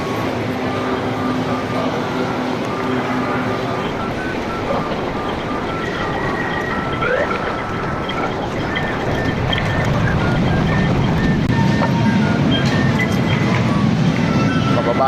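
Rumbling LRT light rail car noise with rattling and faint squeals, steady and close, growing slightly louder toward the end as the train moves into Monumento station.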